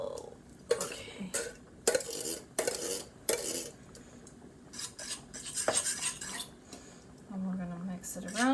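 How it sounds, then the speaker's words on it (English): Diced and crushed tomatoes are stirred in a full pot for a beef pasta, giving intermittent metallic scrapes and clinks of a spoon against the pot with quiet pauses between strokes. "we're gonna mix it around"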